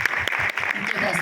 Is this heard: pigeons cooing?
no